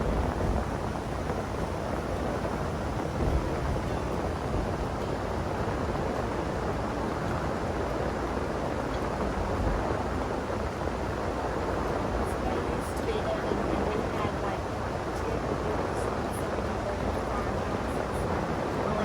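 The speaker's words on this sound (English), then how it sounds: "It's raining outside. Can you hear it?" Steady, even rain hiss fills the whole stretch without a break, a dense wash of sound with no clear individual drops standing out.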